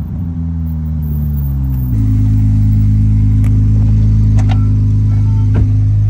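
A Ferrari 296 GTB's engine drones loud and close from inside the cabin, a steady low hum that steps up in pitch partway through and then holds an even, sustained tone.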